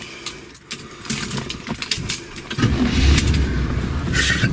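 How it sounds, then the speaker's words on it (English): A 1969 Cadillac Sedan DeVille's big-block V8 cranks and catches, settling into a steady, loud, smooth idle nearby after a brief stretch of rustling and clicks. "Big block coming right to life."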